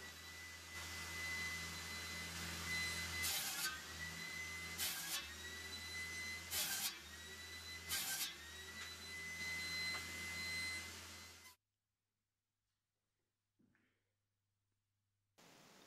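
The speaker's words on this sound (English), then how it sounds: "Here I am already cutting the boards for the headboard and footboard." Wooden boards for a bunk bed headboard and footboard being cut by a loud, steady power saw with a tonal whine, its pitch dipping in several short bursts as the blade bites, before stopping abruptly into near silence.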